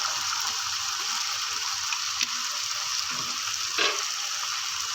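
Soy sauce and chili sauce for spicy spaghetti sizzling in a hot pan while being stirred, a steady hissing fry with a few faint clicks of the utensil.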